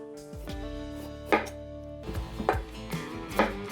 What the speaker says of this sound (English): Always easy way to cut ginger.